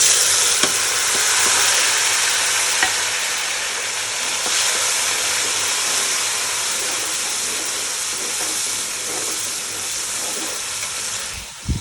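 Onions fry for breakfast in a pan with a steady, close hiss and sizzle, with occasional stirring clicks and no speech.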